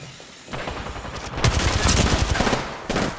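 Apex Legends gunfire: rapid bursts of automatic weapon shots, loud and dense, rattling continuously for a couple of seconds with brief pauses, no talk.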